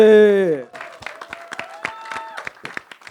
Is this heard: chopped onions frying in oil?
no